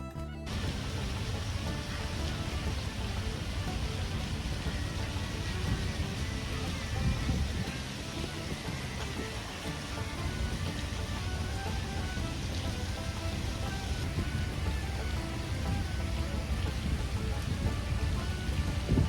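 Steady heavy rain pours down on the deck of a cruise ship during a sailaway from Cobh, Ireland, a dense continuous hiss with no break and no voices.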